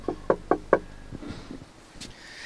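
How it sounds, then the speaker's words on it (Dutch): Four quick, sharp knocks land on a wooden door at a house with no working bell, close and crisp, followed by quiet room noise and a few faint shuffling sounds. "Zal ik kloppen en jij vraagt?"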